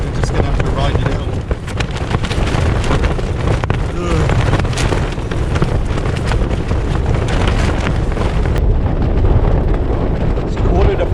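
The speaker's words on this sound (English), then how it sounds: "Wind direction's changed. We're just getting absolutely battered." Strong wind battering a tent at a campsite before dawn, a loud unbroken roar with heavy buffeting and flapping that swamps everything, close to the microphone.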